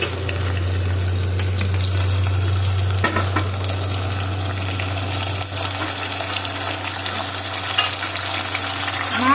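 Onion, vegetables and tomatoes sizzling and frying in a pan over medium flame for sambar, a loud continuous crackle with occasional stirring scrapes and a low hum underneath.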